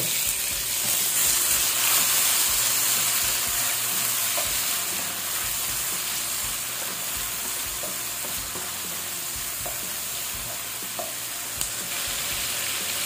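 Tomato sautés in hot oil with onion for a canned sardine dish, a bright steady sizzle with occasional stirring clicks, continuous and close with no talking.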